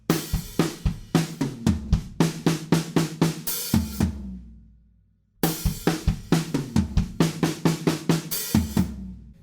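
Drum kit part played loud and close: a steady run of hard hits with hi-hat and floor toms, ending in a fill that rings out into a short silence before the pattern starts again.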